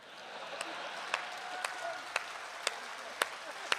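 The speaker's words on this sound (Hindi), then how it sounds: "2-3 लोग ताली बजा रहे हैं, आप भी रहने दो।" A few audience members at a Hindi comic poetry recital clap in sparse, slow single claps, evenly spaced and fairly faint, over a quiet room.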